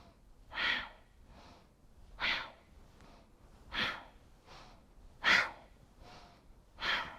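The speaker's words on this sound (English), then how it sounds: "feeling that sharp, quick powerful connect as you breathe out" Sharp, quick, powerful exhales during yoga breathing, a strong forceful breath out roughly every one and a half seconds alternating with softer inhales, close and steady with no talking.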